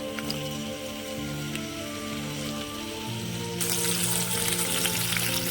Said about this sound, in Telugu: సిమ్లోనే పెట్టి వేయించుకున్నామండి.